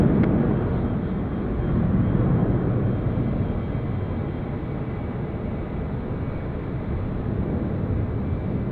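An Airbus A380 jet taxiing at Sydney Airport produces a steady, heavy engine rumble and roar at moderate distance, holding an even level for several seconds with no talking.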